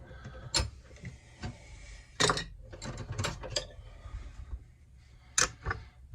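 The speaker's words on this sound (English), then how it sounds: "I'm going to stick a wrench on that nut." A wrench works the nut on a Homelite Super XL Auto chainsaw being taken apart, producing faint, scattered metallic clicks and ratcheting clatters with short bursts and pauses between them.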